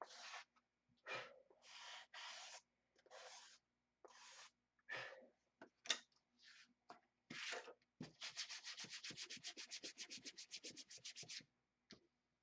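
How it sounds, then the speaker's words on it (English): Close, quiet sanding with a fine sandpaper block on a model F8F Bearcat airplane: short rasping strokes with pauses, then a fast, even run of rapid back-and-forth rubs. "Get a fine sandpaper sanding block."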